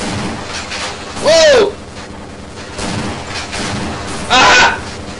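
An automatic gun turret in Half-Life fires in two short loud bursts separated by quieter game noise, with voices and vocal exclamations heard between the bursts.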